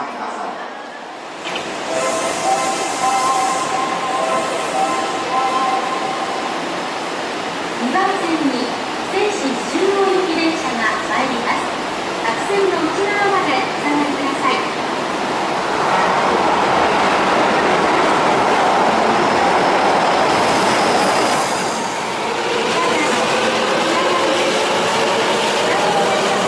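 A Seishin-Yamate Line subway train pulls into a station platform bound for Tanigami, a loud rumbling roar that builds and swells, with station announcements and chime tones sounding over the noise.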